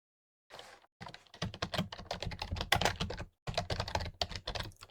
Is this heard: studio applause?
no